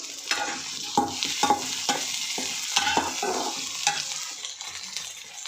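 Sliced okra sizzles in hot oil in a pan while a spoon scrapes and stirs it in repeated close strokes, a steady frying hiss under the stirring, for an egg and okra pulusu.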